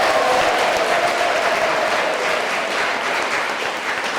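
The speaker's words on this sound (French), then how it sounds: "Je souhaite que vous applaudissiez." A church congregation at an Assumption Mass claps steadily, a dense and loud sustained round of applause that fills the whole stretch without a break.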